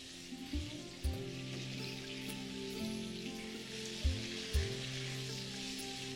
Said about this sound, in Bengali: খুব যে বেশি লাল করে আপনাদের এই আলুগুলোকে ভাজতে হবে তা কিন্তু নয়।